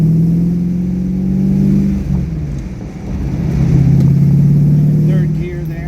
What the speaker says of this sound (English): Let's listen to the car a little bit and not so much me.